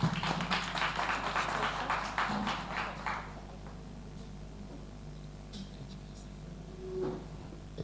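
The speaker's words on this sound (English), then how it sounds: "Round of applause." Audience applause at a panel event, dense broadband clapping that is loud for about three seconds and then fades, leaving quieter room tone with faint murmurs and scattered claps.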